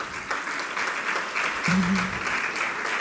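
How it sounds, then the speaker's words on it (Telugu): A church congregation claps loudly and continuously through the moment at a Sunday sermon, with a brief low voice cutting in partway under the applause. "ఒకసారి గట్టిగా చప్పట్లు కొట్టండి."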